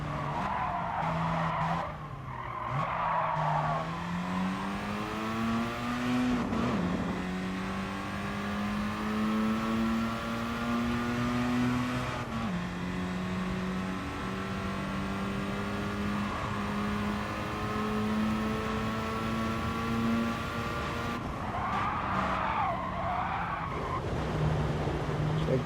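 Race car in Gran Turismo Sport taken hot and wide through a corner, engine droning steadily with rising and falling pitch while tires squeal and skid at the start and end of the turn, loud and continuous.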